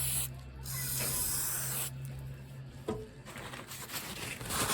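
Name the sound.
spraying brake cleaner into control arm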